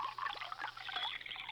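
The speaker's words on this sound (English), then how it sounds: "A splash of raspberry syrup" A short, gentle pour of raspberry syrup into a glass, a quick trickling gurgle lasting about a second and a half.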